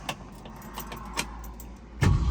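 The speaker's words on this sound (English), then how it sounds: "Car starts right up." Black 1965 Ford Mustang Fastback with a 289 V8 A-code engine, keys jingling and a few clicks before the engine cranks and catches near the end with a loud low rumble.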